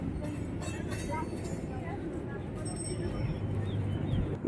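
Low, continuous rumble of a moving commuter train from Barasat heard from inside a carriage, with faint rattling and occasional squeaks; a voice speaks briefly over it.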